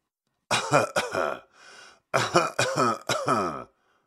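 A person coughing in a few harsh bursts, a short pause with a breathy rasp, then another run of several coughs, close and clear.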